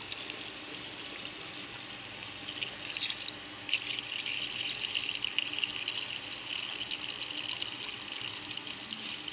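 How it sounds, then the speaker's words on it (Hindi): Mutton broth (yakhni) pours steadily into a clay pot holding meat, a continuous close liquid splashing and trickling that runs for several seconds and grows slightly fuller partway through. "साइड पे हमने मटन की थोड़ी सी यखनी निकाली थी, वो इसमें डालेंगे।"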